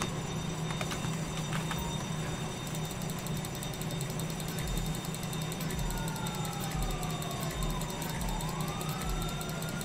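Police car sirens in GTA 5 wail in rising and falling sweeps over a steady, dense layer of game noise and engine rumble, holding at a constant loudness for the full stretch with no talk.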